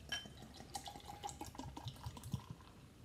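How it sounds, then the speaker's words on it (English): Victoria Bitter beer poured from a small bottle into a schooner glass, a soft splashing, gurgling pour with a few brief clinks, fairly quiet and heard alone. "Pour out into this schooner glass."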